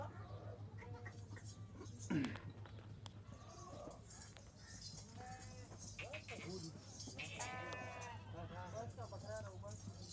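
Kamori goats bleat in several short wavering calls at a livestock market, heard under someone talking continuously, with a steady low hum and scattered background noise.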